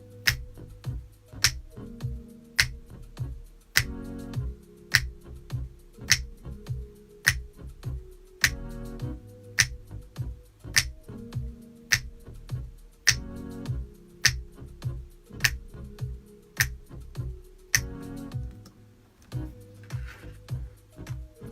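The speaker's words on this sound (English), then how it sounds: "I hope you guys appreciate these snaps when you hear them in a song." Finger snaps crack out in an even, repeating rhythm, crisp and close, layered over a soft looping beat with no talking.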